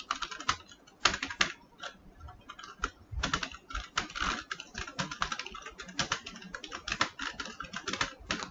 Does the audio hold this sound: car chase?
no